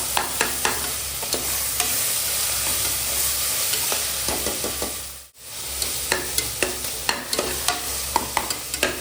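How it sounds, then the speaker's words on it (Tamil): Tomatoes stirred and sautéed in a pan, a steady sizzle of frying under repeated scraping and clacking of a spoon against the pan, close and continuous with a brief gap midway. "நல்லா தக்காளி சேர்த்து வதக்கி விடுங்க. நல்லா வதங்கிக்கணும்."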